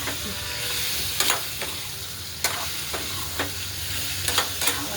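Potato vegetable dish stirred in a hot pan, a constant frying sizzle and hiss with a few sharp scrapes and clinks of the spoon against the pan.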